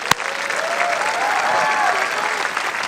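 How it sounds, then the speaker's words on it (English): Steady, full applause from a large audience at a school graduation ceremony, sustained throughout with one sharp knock near the start and faint voices mixed into the crowd noise. "Let's give her a big round of applause again."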